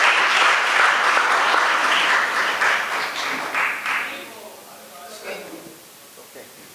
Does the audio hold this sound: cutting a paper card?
no